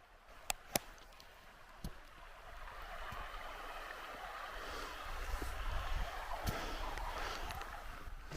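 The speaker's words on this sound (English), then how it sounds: "Yeah, that's running water." A stream trickles and rushes steadily in the background on the Pacific Crest Trail between Walker Pass and Kennedy Meadows, a soft continuous babble with a few sharp clicks and taps near the start.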